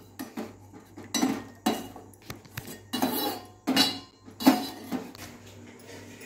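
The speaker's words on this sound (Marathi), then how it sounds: "आता हा कांदा शिजलेला आहे, आपण एका प्लेटमध्ये काढून घेऊन थंड व्हायला ठेवायचा आहे।" Cooked onion scraped from a pan onto a plate, with a series of loud metal spoon-on-pan and plate clinks and scrapes in irregular bursts, close up and without talk.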